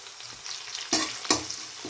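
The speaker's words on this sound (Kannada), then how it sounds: "ಇದನ್ನು ಫ್ರೈ ಮಾಡ್ತಾಯಿದ್ದೀನಿ" Onion, curry leaves and cumin frying in a pan, a soft steady sizzle broken by two sharp louder scrapes of stirring, close up with no voices.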